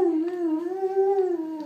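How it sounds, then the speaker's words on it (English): A dog gives a single sustained, wavering howl up close, loud and clear for nearly two seconds with no talking over it. "that's a nice happy anniversary howl, isn't it?"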